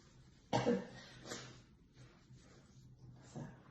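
One sharp, close cough bursts out, followed by a softer second cough, then quiet throat noises and faint breathing.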